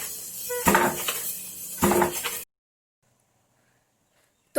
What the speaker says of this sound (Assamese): এনেধৰণে ঢেঁকীত চিৰা খুন্দা বা পিঠাগুড়ি খুন্দা দেখা পোৱা নাযায়